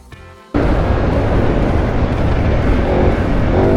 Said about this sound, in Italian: Sul veloce questa moto è una libidine